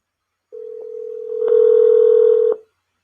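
A telephone dial tone sounds alone, then a second tone layers on as a call is placed, holding steady for about two seconds before cutting off.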